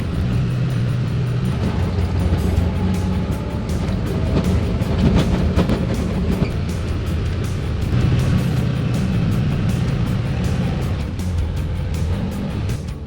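A CF Moto UTV engine runs steadily while the machine plows deep, light, fluffy snow down a driveway toward a hill, a loud continuous drone with rumbling texture and no voices.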